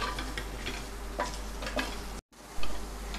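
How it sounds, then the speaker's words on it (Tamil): Sliced onions being stirred into a cooking pan for dum aloo, with a spatula's light scraping ticks at an irregular pace over a faint sizzle and a brief silent gap near the end. "அந்த ஸ்லைஸ்டு ஆனியன்ஸை வந்து இதில் வந்து ஆட் பண்ணிக்கலாம். இது எல்லாத்தையும் நல்லா இப்போ வந்து மிக்ஸ் பண்ணிக்க போகிறோம்."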